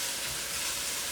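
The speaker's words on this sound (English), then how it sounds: "So now I'm just, again, with my vegetables, in my pan. So I'm just sauteing these" Vegetables sauté in a pan, giving a short, even, close hiss of frying with no break and no voices.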